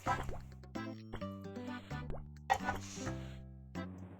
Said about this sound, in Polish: Gdzieś widziałem taką taktykę na szybsze pozbycie się wody z makaronu.